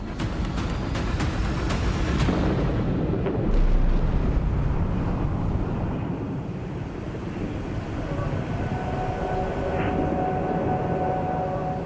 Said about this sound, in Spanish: Se produce una falla importante en la que el combustible sale por los lados y todo explota